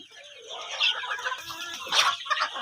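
Several young Fayoumi hens about three months old cluck and murmur at a poultry farm in Taraganj, Rangpur, a steady chatter of overlapping calls with a louder burst near the end and no talk.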